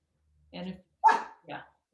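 A dog barks a few times during an online meeting, three or four short, sharp close barks spaced about half a second apart against otherwise silent background.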